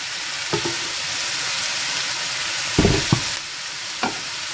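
Onion and salt sautéing in a pan for a vendakka mezhukkupuratti, a steady broadband sizzle running throughout with a few short clinks and scrapes of a spoon stirring at irregular moments, close and fairly loud, no voices.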